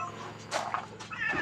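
Temple cats at Wat Pong Chai in Chae Hom, Lampang, give several short, close meows in quick succession, one after another, with no talking.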